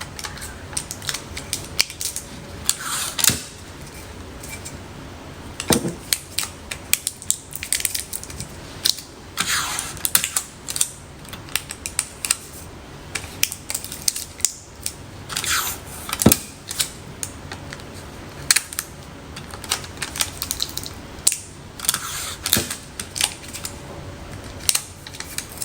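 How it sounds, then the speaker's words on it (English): Adhesive tape is pulled taut and pressed around a slate rock blank for sublimation, producing repeated short crinkling, ripping and tapping bursts in an irregular rhythm, close and fairly loud, with no talking. "as I'm taping it, I'm pulling it just to make sure that it stays firmly pressed."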